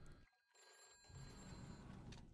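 A telephone rings in the video game What Remains of Edith Finch, a fairly steady ring over a low background hum with a brief quiet dip near the start.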